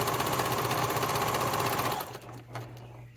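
A sewing machine runs steadily and close, its needle stitching through a satchel bag in a fast even whirring chatter for about two seconds, then stops, leaving faint handling sounds and a low hum.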